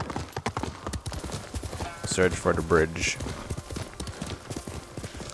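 Horse hooves clip-clop in a video game, a steady trotting rhythm heard under a voice and game narration, with a brief whinny-like tonal cry in the middle.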